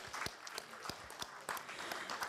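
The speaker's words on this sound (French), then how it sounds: "j'aimerais qu'on applaudisse" Audience applause in a conference hall at a closing ceremony, a steady wash of many hands clapping with a few sharper individual claps standing out, continuous through the whole stretch.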